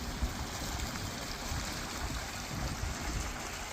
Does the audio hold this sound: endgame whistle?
no